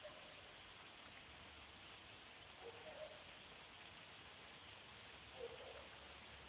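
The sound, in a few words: rain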